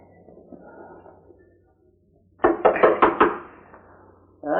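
A wooden door is knocked on several times in a quick cluster of close, fairly loud raps, with a faint muffled murmur before it and another knock starting at the end.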